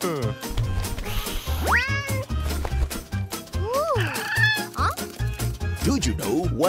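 A frightened cartoon cat, scared by a cucumber, lets out several rising and falling meows in quick succession. The cries are loud and close, set over busy background music and sound effects.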